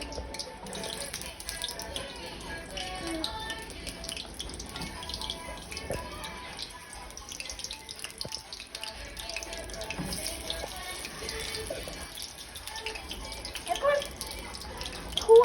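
Water running steadily from a kitchen tap while chicken is washed, a continuous close splashing hiss with occasional drips and clatter, rising slightly near the end.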